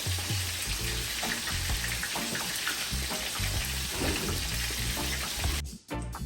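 Steady, dense sizzling and crackling of fish frying in hot avocado oil, continuous and close, briefly dipping near the end.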